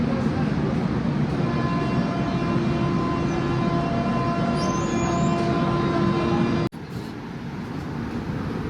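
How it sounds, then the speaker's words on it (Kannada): Loud, steady rumble of a train departing Ahmednagar railway station with a faint sustained tone, ending in an abrupt drop to a quieter, lighter rolling noise. "ಈಗ ಟ್ರೈನ್ ಅಹಮದ್ನಗರ್ ರೈಲ್ವೆ ಸ್ಟೇಷನಿಂದ"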